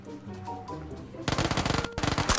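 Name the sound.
automatic gunfire in the video game PUBG Lite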